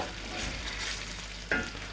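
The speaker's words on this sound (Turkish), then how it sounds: "Yağımızın erimesi için şöyle karıştırıyoruz yavaş yavaş." Soft scraping and stirring in a pot with a faint sizzle of fat melting for beef kavurma, slow and steady over low heat, ending in a brief sharp clink.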